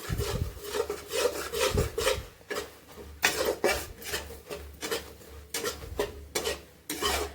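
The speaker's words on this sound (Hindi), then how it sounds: "बेसन को हमें हल्का कच्चापन निकालना है, भूनना है।" Gram flour (besan) being dry-roasted in a pan, a stirring spoon rasping and scraping repeatedly across the metal in uneven strokes, close and fairly loud, no talk.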